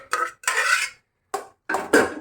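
Several short scraping strokes of a spoon through thick carrot halwa in a pot, in irregular bursts separated by brief pauses.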